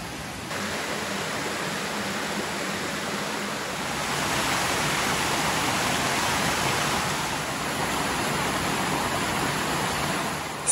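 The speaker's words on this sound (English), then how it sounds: "It is a waterfall divided into two large and small." Akame Falls, a waterfall split into a larger and a smaller fall, produces a steady, dense rush of falling water, constant and fairly close, swelling slightly in the middle, with no voices.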